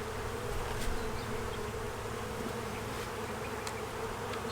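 Honeybees swarm around an open hive box in spring, a dense, continuous buzzing hum with individual bees passing close, faint and steady throughout.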